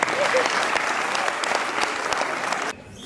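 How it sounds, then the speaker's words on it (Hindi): Loud applause at a hostel birthday celebration for a priest, a dense, steady crowd clapping close by that cuts off abruptly near the end. "सभी को एक बार जोरदार ताली बजा।"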